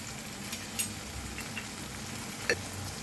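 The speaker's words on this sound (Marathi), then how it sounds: "टमाटर बी छान भाजून घेऊया चला कांदा टमाटो छान असं भाजले" Onion and tomato sauté in a pan for a sprouted moth bean dal. A soft, steady sizzle continues throughout, with a couple of faint clicks of a utensil on the pan.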